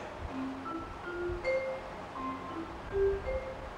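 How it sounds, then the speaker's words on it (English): Sparse, soft mallet notes on a vibraphone, each struck tone ringing briefly and dying away, one at a time with gaps between them. "Now, this is called the vibraharp."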